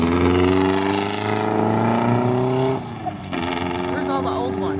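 An old car drives past on a town street, its loud engine droning steadily close by and then fading, with a voice audible over it.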